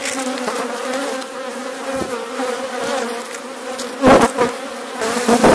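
A dense swarm of honeybees hums loudly and continuously around a hive, with a few closer, louder buzzes sweeping past.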